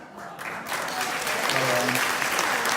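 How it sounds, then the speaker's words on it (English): Audience applause fills a fundraiser gathering for Zambia, starting moderately and swelling into steady, dense clapping with faint voices underneath. "We'll give them both a round of applause"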